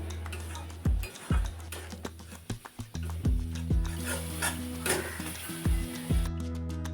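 Spice paste and potatoes stirred in a pan give repeated scraping knocks of a spoon against the metal over a low, steady sizzle, close and fairly quiet.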